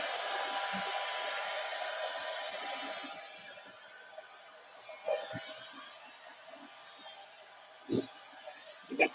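A hair dryer blows on ink spread over Yupo paper, a steady whooshing drone that tapers off midway, followed by scattered small knocks and handling sounds nearby.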